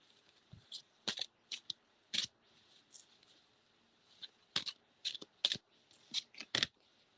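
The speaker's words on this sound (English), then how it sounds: "I always have to shuffle them upside down" Quiet riffling and soft slaps of tarot cards being shuffled in short irregular bursts, close and faint, with brief pauses between.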